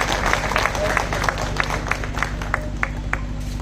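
Clapping crowd at a political rally for municipal and panchayat election candidates in Gujarat, with irregular claps rising over a steady hum and babble, fairly loud throughout.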